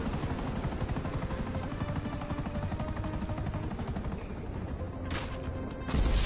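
Helicopter in a video game, a steady choppy rotor thrum with mechanical whine, moderately loud and continuous, ending with a brief burst of heavier noise near the end; no talking.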